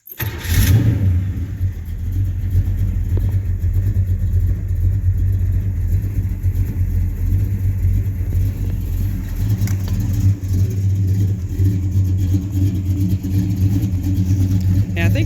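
A 1967 Chevelle 300 two-door post with Flowmaster 40-series exhaust and an H pipe cranks and fires, then settles into a loud, deep, rumbling idle with occasional revs, heard close up and continuous.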